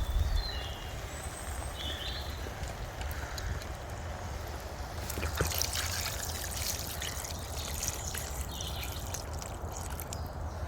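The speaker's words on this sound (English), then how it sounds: "Bit of water." Water poured into a camp cooking pot of stew at a wild camp in the woods, a continuous soft trickling and splashing that lasts throughout at moderate loudness, close by with faint outdoor background.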